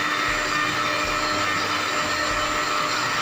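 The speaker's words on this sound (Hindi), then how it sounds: "अब मैं इन सारे इंग्रेडिएंट्स को अच्छे से ब्लेंड कर लूँगी।" A kitchen blender whirs steadily and loudly, mixing a chocolate milkshake with ice cubes, a dense continuous motor roar with faint low thumps from the ice tumbling inside.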